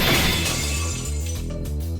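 Twin swords shatter in a video game with a loud, sharp breaking crash up front, followed by ringing, metallic tonal debris and rhythmic low pulses as it fades.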